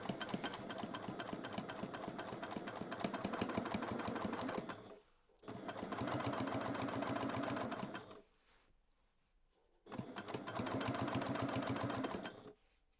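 A sewing machine quilting handmade fabric for a simple zipper pouch, running fast in three long steady bursts separated by short pauses, close and loud with no talk.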